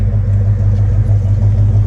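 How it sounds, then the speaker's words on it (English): A 1969 Dodge Charger RT idling through stainless steel boiler mufflers, a deep, steady, close and loud low-pitched rumble with an even, slightly lumpy pulse and no talking over it. "What kind of exhaust? Boiler exhaust, stainless steel boiler mufflers."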